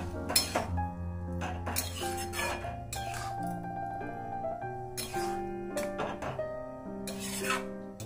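A spoon scrapes and clinks in a pan as boiled chana dal is stirred into fried tomatoes, giving a series of irregular metallic scrapes and taps at close range.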